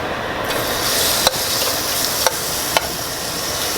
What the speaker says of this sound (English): add the shrimp to it.